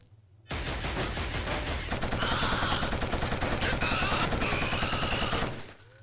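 Rapid automatic gunfire in the first-person shooter Killzone, a loud sustained burst of rattling shots that starts abruptly after a brief quiet moment and trails off near the end.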